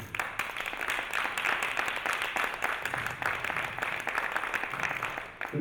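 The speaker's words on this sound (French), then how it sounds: "je vous demande de l'applaudir, s'il vous plaît" An audience at a panel session claps in a sustained, moderately loud round of applause, with individual hand claps audible across the hall and no speech on top.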